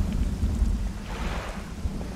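Thunder rumbles low and broad through a storm in the Dredge fishing game, with wind and rain noise around the boat and a swelling roll in the middle of the short stretch.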